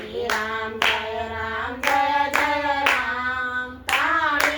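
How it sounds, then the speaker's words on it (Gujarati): Rhythmic hand clapping keeps time through a Ram Navami bhajan devotional song, with sharp claps landing on the beat beneath steady sung vocals and harmonium-like tones. "તાળી પાડો"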